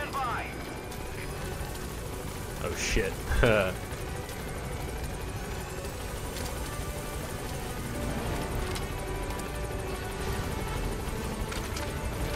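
A helicopter arrives over a landing zone in the video game Metal Gear Solid V: The Phantom Pain, its steady rotor drone running throughout beneath someone talking, with a few sharp bursts of game noise early on.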